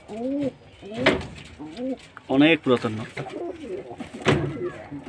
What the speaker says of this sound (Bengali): গম ঠোঁটের পায়রা আছে।